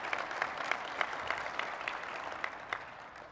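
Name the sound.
audience applause at award ceremony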